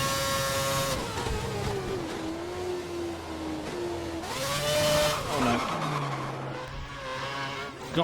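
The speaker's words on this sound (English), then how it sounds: "Got on the curb there, and the car just went round." A Formula One car at Valencia in a 2011 racing video game skids after mounting a curb and spins round, engine pitch sweeping and dropping amid screeching tyres and revving, loud and close over a continuous engine drone.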